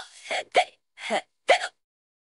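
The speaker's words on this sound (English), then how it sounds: "hiccups." Four short, sharp hiccups in quick succession, each a brief voiced gulp with a gap of silence before the next, close and fairly loud with no talking.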